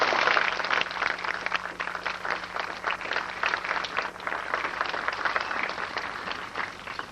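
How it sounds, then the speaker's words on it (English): Audience applause at a retirement banquet: a dense, steady wash of clapping from a crowd fills the room throughout, moderately loud with no pauses. "Let's give them a round of applause"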